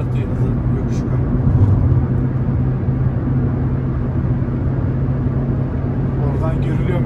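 A car engine drones steadily at high revs while speeding up on an intercity road between Kırıkkale and Ankara, a broad continuous roar heard from inside the cabin with a faint voice near the end.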